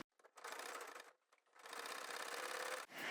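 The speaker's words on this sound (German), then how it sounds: "Ich habe jetzt die eine Seite vom Träger aufgenäht." A sewing machine stitches one side of a tote bag strap in two steady runs, a fast close whirring buzz that pauses briefly midway, then resumes and stops.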